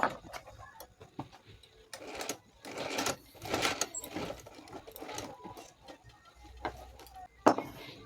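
Sewing machine stitching a blouse latkan, heard as soft uneven bursts of ticking stitches close by, quiet and intermittent with a sharper clack near the end.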